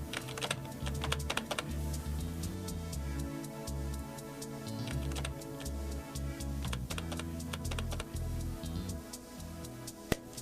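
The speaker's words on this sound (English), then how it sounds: "first we'll type in the name and the fax number" Rapid typing on a computer keyboard, entering a name and fax number into a Windows 95 fax program, with steady irregular clicks and taps running throughout under quiet background music.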